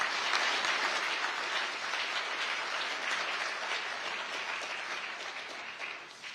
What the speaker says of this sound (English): I think it would be fair to applaud them for supporting this dialogue